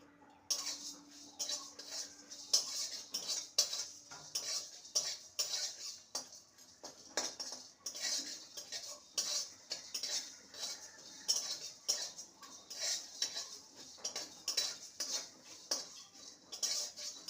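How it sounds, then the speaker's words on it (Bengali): Chopped dried red chilies and bay leaves dry-roast in an empty pan, giving repeated light metallic scrapes and clinks as they are stirred, soft and rhythmic with quiet gaps between strokes and no talking. "শুকনো খোলায় ভেজে নেব"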